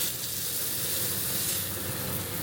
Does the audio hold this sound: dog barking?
no